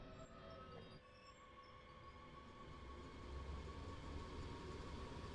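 An S-Bahn train in Train Sim World runs along a line from Mülheim (Ruhr)-Styrum to Essen-Steele Ost, a steady rumbling rail drone with faint high whines that swells slightly as it gathers speed, with no talk.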